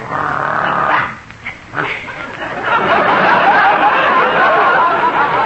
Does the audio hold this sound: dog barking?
yes